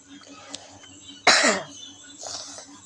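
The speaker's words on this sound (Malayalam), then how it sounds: "ചുമയും കാര്യങ്ങളൊക്കെയാണ്," A single sharp, close cough bursts out from a person during a gaming session, followed by a short rough breath against a quiet background hum.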